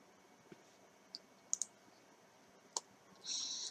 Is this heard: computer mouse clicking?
yes